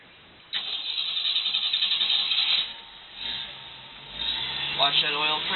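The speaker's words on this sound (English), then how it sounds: "And I'm going to go ahead and start it up." A warm 1976 Jeep CJ7 engine cranks and catches after half a second, then settles into a steady, rough idle with a slight rattle, while a person talks over it.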